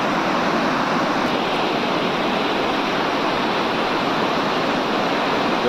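Loud, steady roar of a rain-swollen river rushing near Jonha Falls, a dense unbroken wash of water noise holding level throughout with no voices.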